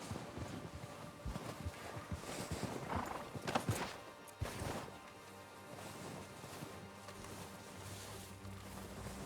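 Horse hooves clip-clop in Red Dead Redemption 2 on an outdoor approach, with wind and a snort or whinny; the steps are uneven and busiest early, then fade into a steady ambient wash.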